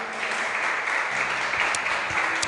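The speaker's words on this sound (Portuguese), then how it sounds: "Dê um aplauso poderoso a Jesus." Church congregation applauding, a dense, steady wash of clapping that fills the space for a few seconds at an even loudness.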